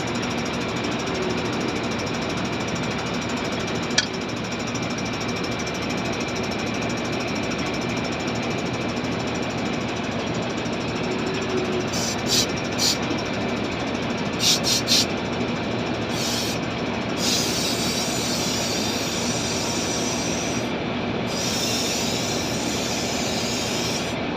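A Dasmesh double thresher used for maize runs with a steady, dense mechanical roar throughout, while short bursts of hissing compressed air blast across it as the machine is cleaned.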